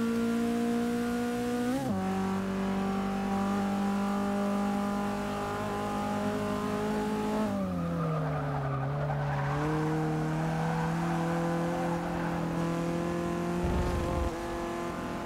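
A Golf race car in a racing video game, its engine holding a loud, steady high rev that dips briefly at gear changes and climbs again, running alone without talk.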